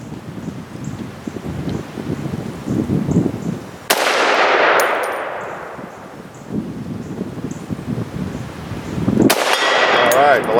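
Tokarev SVT-40 rifle rounds striking a steel plate outdoors: two sharp, loud gunshot cracks a few seconds apart, each followed by a ringing metallic clang and a decaying tail, over wind and rustling.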